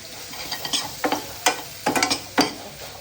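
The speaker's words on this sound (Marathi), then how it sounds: "टमाटा थोडा परतून घ्यायचा." Tomato being sautéed in a pan for a brinjal curry: a spoon scrapes and stirs close up in short, uneven bursts over a low, steady sizzle.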